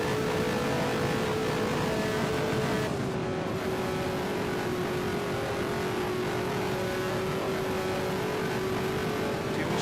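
An IndyCar race car driven flat out at the Indianapolis 500 gives a loud, steady engine drone that holds at a near-constant pitch for the whole stretch, with no voices.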